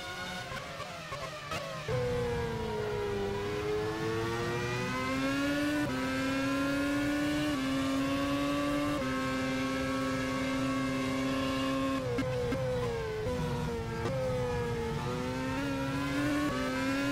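Formula race cars launch from the grid in Bahrain in a sim racing game, high engine whines climbing through gear shifts after a brief quieter pause, several cars layered together, loud and sustained with no voices.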